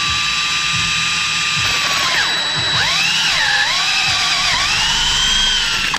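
A power drill spins a bit into an engine cylinder head to drill out a broken tap. The motor whines steadily and loudly, its pitch dipping and rising several times as the speed changes, with a faint ratcheting rattle underneath.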